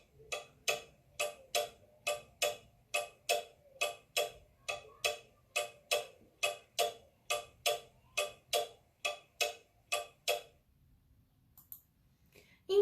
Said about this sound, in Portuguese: como o tic-tac incessante do relógio